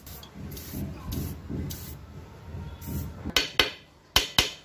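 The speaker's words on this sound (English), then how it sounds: "it is very old and rusted as it is old apply WD-40" WD-40 is sprayed onto old, rusted Lambretta scooter brake parts: several short aerosol hisses, followed by a few sharp metallic clacks and taps from handling the parts, close by.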